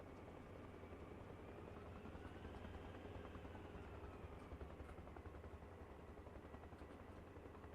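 Helicopter in a video game coming in toward a helipad, a steady droning rotor and engine roar holding loud and even throughout, with a faint whine drifting up and down in pitch.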